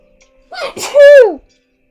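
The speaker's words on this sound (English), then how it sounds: "I'm gonna sneeze" A single close, loud sneeze: a sharp breathy intake burst followed by a strong voiced "choo" that trails off, then silence.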